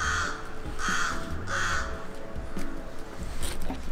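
A crow caws loudly outdoors in three repeated harsh calls at a steady rhythm, followed by fainter, scattered caws over a low background rumble.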